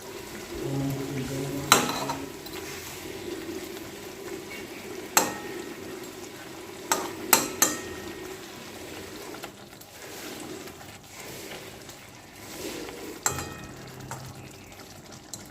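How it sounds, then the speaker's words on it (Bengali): Parshe fish being stirred into a potato curry in a pan, a steady low sizzle with wet scraping and a few sharp clinks of the utensil against the pan, close and without speech. "মাছগুলো আলু ঝোলের সাথে একটু ভালো করে মাখিয়ে নিতে হবে"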